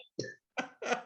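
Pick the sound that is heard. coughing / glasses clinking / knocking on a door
coughing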